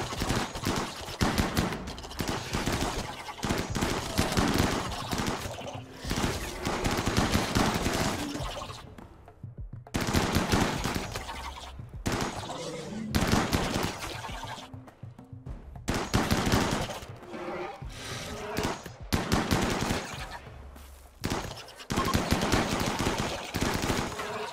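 Shotgun fire in the colony video game Rimworld comes as loud, sustained bursts of rapid shots that repeat in several volleys, separated by short silent gaps.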